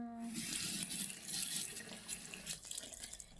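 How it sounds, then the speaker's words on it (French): Tap water runs steadily into a sink as a skin product is rinsed off, a continuous close splashing hiss that varies slightly in strength. "Il faut bien la rincer parce que ça a tendance à bien"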